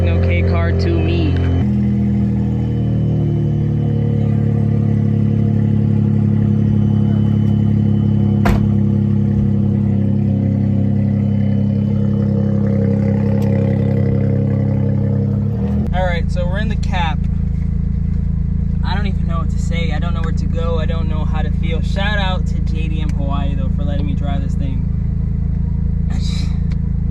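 A car's engine at JDM Hawaii holds a loud, sustained high-revving drone with shifting pitch, then drops into a lower, heavy rumble while people talk nearby.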